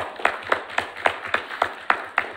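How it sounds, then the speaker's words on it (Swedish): A small audience gives a lecturer slow, rhythmic clapping, about nine distinct claps at an even pace, sounding sparse and moderately close. "Vi kan väl inleda med att ge föredragshållaren en varm applåd"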